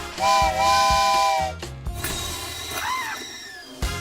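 A steam hiss and whistle effect: a loud, sustained tonal whistle with hissing, then a rushing burst and a brief wavering whistle fading into steady hiss, with no voices.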